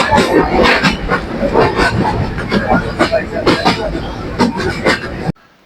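Passenger train interior with a steady rumbling ride and rhythmic clattering bursts, people talking over it throughout, and sound cutting off abruptly near the end.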